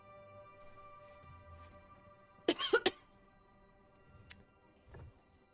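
A single short cough rings out nearly alone over a quiet hum of game music, followed a moment later by a faint softer throat noise.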